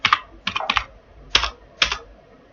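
Clicky computer keyboard typing up close, heard as several separate bursts of keystrokes with short pauses between them, with no voices over it.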